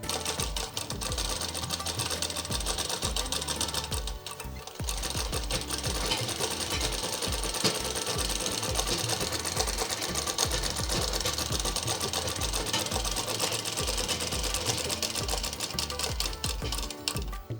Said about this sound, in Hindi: बस अभी हमें आर्म होल से लेके नीचे की सिलाई को बंद करना है।